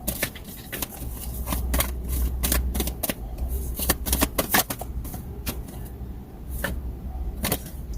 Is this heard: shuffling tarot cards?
yes